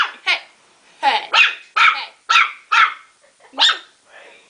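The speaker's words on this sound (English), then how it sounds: "Right, he's barking at Nina" Puppy barking in a string of about eight sharp, high yips and barks at irregular intervals, close and loud, with short quiet gaps between them and no talk.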